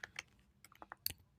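Sparse keystrokes on a computer keyboard while code is entered, a few quiet separate clicks and taps spread unevenly over a brief stretch.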